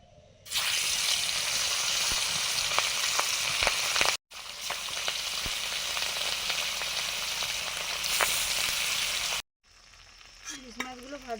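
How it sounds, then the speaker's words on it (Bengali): Hilsa fish pieces sizzle and crackle vigorously in hot mustard oil in a home kitchen pan, a loud steady hiss with occasional pops and spatters, cut by two short breaks before a quieter stretch at the end. "ইলিশ মাছগুলো ভাজবো এবারে"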